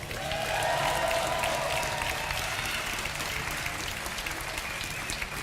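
A live esports crowd at a StarCraft 2 tournament in Sweden bursts into steady applause and cheering, a dense, even roar of clapping that holds without letup, distant and full.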